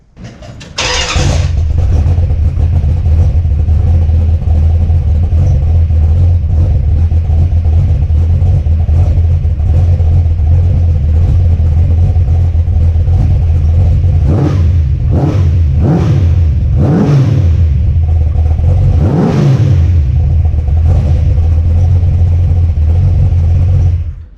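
Dodge Ramcharger engine after an ignition upgrade cranks and fires, then settles into a loud, steady, rumbling idle, with a few throttle blips toward the end.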